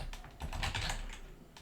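Keys clatter in a quick irregular burst as code is typed on a computer keyboard, close and fairly quiet, with no voice.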